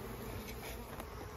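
A steady, dense buzz of many honeybees swarming close by around a hive box during a honey harvest, continuous and unbroken, with no voices.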